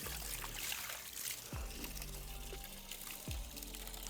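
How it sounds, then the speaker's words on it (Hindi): Fresh groundwater pours out of a borewell pipe on a plot in Uttarakhand, a steady low splashing flow with a few brief low thumps and faint voices nearby. "ये देखो कितना पानी निकल रहा है और ये बिल्कुल फ्रेश वाटर है एकदम"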